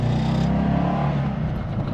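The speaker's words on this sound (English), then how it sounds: "Listen to this engine." An Alfa Romeo 33 SW Q4 with a boxer engine and four-wheel drive revs nearby, a loud, steady throaty drone that holds through the short stretch with no talk.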